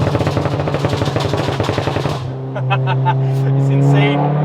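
Rapid crackling exhaust bangs from a Volkswagen Golf R Mk7 fire in a dense burst over a revving engine on a downshift, then give way to a steady idle burble.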